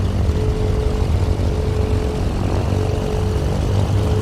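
Twin piston engines of a FlySimWare Cessna 414AW Chancellor in Microsoft Flight Simulator drone steadily and loudly, a continuous propeller hum with a faint tonal whine that wavers slightly as the RPM shifts.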